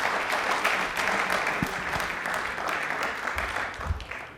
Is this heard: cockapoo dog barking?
no